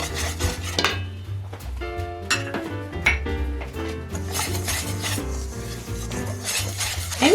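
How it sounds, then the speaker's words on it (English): Dry ingredients for whole wheat blueberry muffins, flour with baking powder and salt, are whisked in a bowl, brisk close scraping and tapping strokes against the sides in an uneven rhythm. "So I'll be blending that in."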